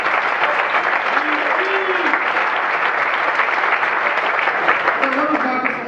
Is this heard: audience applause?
yes